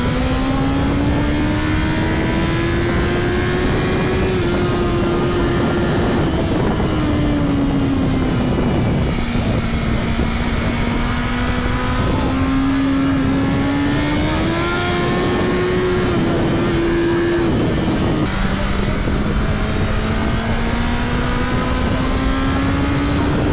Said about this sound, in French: on essaye une des motos les plus puissantes commercialisées sur le circuit de Grand Prix de F1 de Barcelone